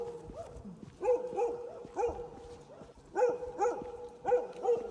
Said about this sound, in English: there were so many dogs that was barking at every single house